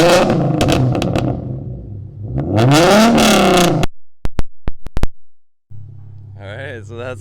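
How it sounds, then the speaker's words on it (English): Loud revving from a 2012 Hyundai Genesis Coupe 3.8L V6 with straight pipes, a sustained rising rev followed by a string of sharp short blips, then a steady rumbling idle. "it's gonna be just a cold start right here, and then some revs, 3K revs and 5K revs."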